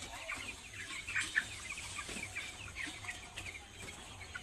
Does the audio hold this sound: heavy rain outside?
no